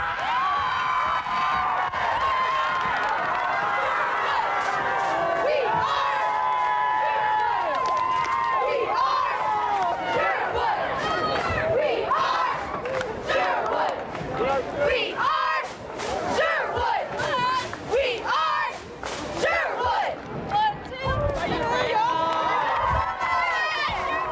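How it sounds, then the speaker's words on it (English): High school cheerleaders from Sherwood High perform a loud shouted cheer at a Friday night football show, rhythmic chanted calls with crowd whoops and cheering mixed in, lasting throughout. "now it's time to get hyped, because it's time for the Cheer of the Night"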